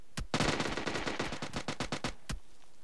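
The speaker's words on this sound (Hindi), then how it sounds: "अरे कोई गन चलाओ।" Rapid automatic gunfire in a multiplayer shooter video game, a dense burst of about a dozen evenly spaced shots after a single opening shot, then one final shot, close and punchy.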